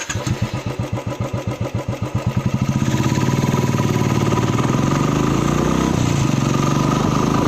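Royal Enfield Classic 350 BS4 motorcycle single-cylinder engine thumps slowly and evenly, then picks up into a steady, loud, close drone as the bike gets under way.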